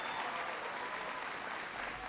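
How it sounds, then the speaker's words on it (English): A large audience at a campus presidential event on advanced vehicle technology applauds, a steady, fairly distant wash of clapping that holds evenly throughout with no voices over it. "So give him a big round of applause."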